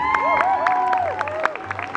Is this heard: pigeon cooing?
no